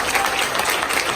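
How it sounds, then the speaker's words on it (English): Dense audience applause fills a hall in a short, continuous burst of many hands clapping together, loud and fairly close with no pauses. "clap it up, clap it up, clap it up"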